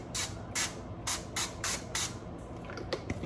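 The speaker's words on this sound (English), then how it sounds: "We need to spray the pan somewhere." Cooking spray hisses onto a pan in six short, sharp bursts, close and fairly even in rhythm, followed by softer clatter.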